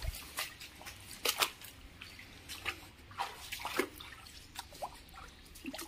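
Water trickles and seeps through cracks into a dried-out village well, heard as irregular close drips and small splashes with a faint, steady wet background.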